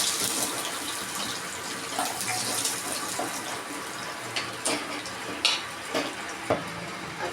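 Bay leaves and whole garam masala spices crackle in hot oil left from frying fish, a steady close sizzle with a few sharper pops and light stirring scrapes toward the end.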